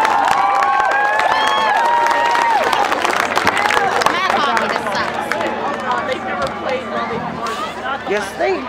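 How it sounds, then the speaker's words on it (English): Crowd cheering and clapping after a high school marching band's halftime show, a loud, dense wash of applause and excited voices that fades slightly toward the end, with chatter mixed in. "Give them a round of applause."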